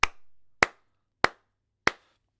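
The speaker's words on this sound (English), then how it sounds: "if I clap like this" Four sharp, isolated hand claps land evenly on a steady beat, close and dry against silence, marking out a bar of four counts.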